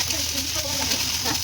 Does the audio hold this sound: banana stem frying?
yes